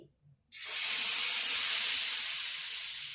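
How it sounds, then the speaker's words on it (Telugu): Ragi rava dosa batter poured onto a very hot pan, bursting into a loud, steady, close sizzle after a brief quiet moment, hissing evenly and only slowly easing. "ఇప్పుడు దోశ పైన అయితే బాగా వేడైందండి. ఇప్పుడు దీనిపైన దోశ కింద వేసుకోవాలి."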